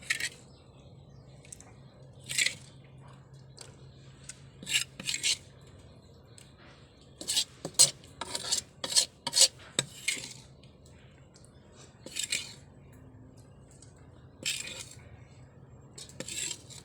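Snakehead (shol) fish curry being ladled from a pot, with scattered metallic clinks and scrapes of the ladle against the vessel, some in quick clusters, others spaced apart, over a quiet kitchen background.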